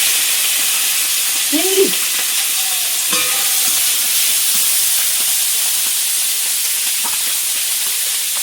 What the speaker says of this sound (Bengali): এর মধ্যে একটু পাঁচ ফোড়ন দেবো। তেল খুব হিট হয়ে গেছে।